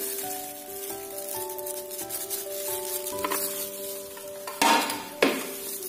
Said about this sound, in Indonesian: kemudian kita aduk sampai rata